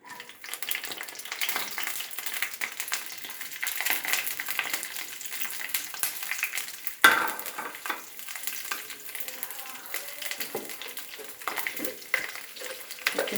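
Green chilies frying in half a tablespoon of oil for bottle gourd chutney: a steady, fairly loud crackling sizzle that runs the whole time, with a brief sharper burst partway through and no talking.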